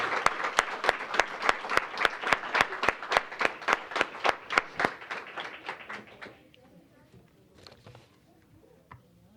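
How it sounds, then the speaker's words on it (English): Audience applause at an awards ceremony honouring award team winners, a run of sharp, loud claps for about six seconds that thins out and fades into quiet room sound with faint scattered noise. "another round of applause for our Bhayana Award team winners"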